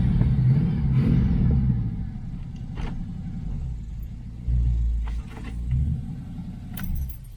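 A 1982 Chevy El Camino with a carburetor problem and slightly off timing idles with a low, uneven rumble, its engine swelling briefly a couple of times amid light metallic clinks, heard up close with no voices.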